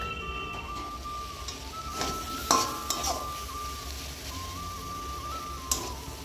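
A metal lid is set onto a pot of ridge gourd curry simmering with salt, with a few sharp clinks and clatters over a soft background hiss and a faint steady tone.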